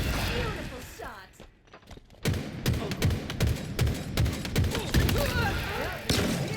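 Video game gunfire crackles in a rapid, dense burst of shots, loud and close, after a short quieter stretch, with a voice talking over it.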